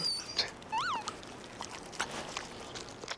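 Puppy in a film scene gives one short, high, rising-and-falling whimper, surrounded by light thumps and scuffling sounds.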